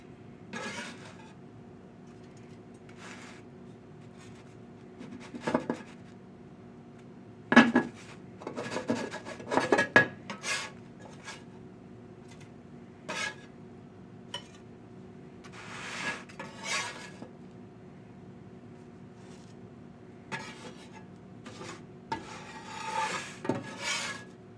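A spatula scrapes and rasps across a griddle while lifting thick, fluffy pancakes off, in a series of short, close scraping strokes separated by quiet pauses, with occasional clinks of metal.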